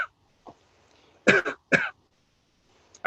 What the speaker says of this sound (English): And it produced this cough.